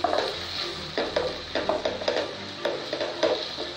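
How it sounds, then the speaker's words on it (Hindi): Chicken pieces cut small fry in oil with spices for Indian-style chicken fried rice, a steady close sizzle broken by repeated scrapes and stirring knocks of a spoon against the pan. "उसे अच्छे से ऑयल में फ्राई कर लूँगी, ये अच्छे से मसाले में भून जाए"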